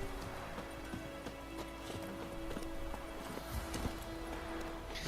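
Horse hooves clip-clop in a steady walking rhythm in The Witcher 3, close and clear over a low game soundtrack hum.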